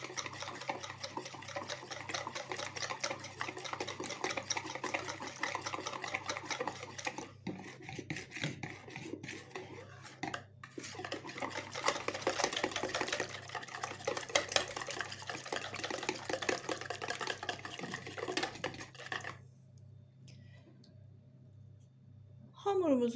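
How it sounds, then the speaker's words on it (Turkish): Batter with lemon juice and baking powder being whisked briskly in a bowl, a dense run of rapid clicking strokes with brief pauses, ending in near silence. "limon suyunu ve kabartma tozunu koyuyoruz. Hepsini güzelce çırpıyoruz."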